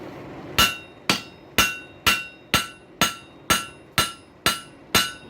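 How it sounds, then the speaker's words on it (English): A 2-pound ball peen hammer strikes glowing hot stainless steel pipe ten times at an even, unhurried pace, each blow a sharp, ringing metallic clang that decays quickly before the next. "So we're going to try the 2-pound ball peen on it."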